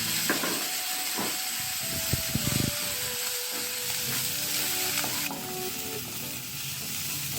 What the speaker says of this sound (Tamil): ஒரு புடி பச்சை தேங்காய், ஒரு புடி கட் பண்ண வெங்காயம். இதெல்லாம் போட்டு நல்லா வதக்கிக்கணும்.